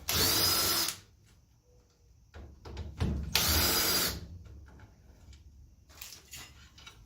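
Rear brake bolts on a 1992 Nissan Sentra come out under a power tool in two loud, close bursts of about a second each, separated by quieter clinks and handling of loose metal parts.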